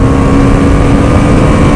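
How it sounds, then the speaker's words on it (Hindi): A BMW motorcycle cruising smoothly along a road, its engine a steady, continuous drone with wind rush throughout and no pauses or spoken voices. "मैं यार BMW की बाइक पे राइड कर रहा हूँ"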